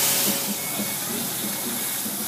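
Pancetta sizzles in a pan over a flame with chili and garlic, a loud, dense, hissing sizzle that holds steady throughout, close by and alone.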